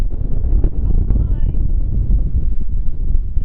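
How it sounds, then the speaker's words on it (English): Strong gusting wind buffets the microphone with a constant low roar near Pupu Springs, New Zealand, a voice faintly audible beneath the rumble. "The wind is heavy wind today"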